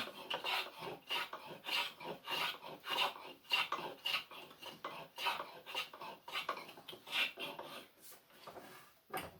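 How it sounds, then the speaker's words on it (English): A spokeshave shaves a wooden chair part in a series of rhythmic rasping strokes, about a dozen close, scraping passes in quick succession with brief gaps between, no voices. "the spoke shave can be pulled, it can be pushed, you can skew to the side"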